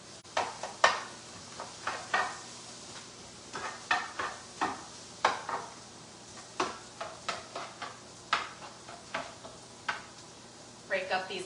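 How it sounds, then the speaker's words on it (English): A spoon stirs vegetables sizzling in a pan, including onion pieces, with a steady soft frying hiss broken by a series of sharp scraping and clinking strokes at an irregular pace. "Give these veggies a quick stir."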